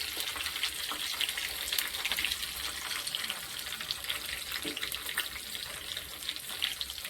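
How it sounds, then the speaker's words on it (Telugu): Garlic cloves fry in a pan with a continuous crackling sizzle, fairly quiet and steady with small pops scattered through it and no talk. "కొన్ని వెల్లుల్లి రెబ్బలు, బాగా వేగనివ్వాలండి."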